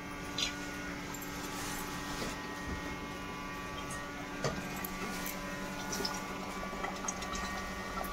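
Dough balls fry and puff in hot oil with a steady bubbling sizzle and scattered small pops and crackles, close and continuous throughout.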